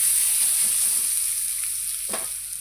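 Ingredients for ukadiche modak sauté in half a spoon of ghee in a pan, giving a soft steady sizzle with a high hiss, with occasional light stirring scrapes, close and without talk.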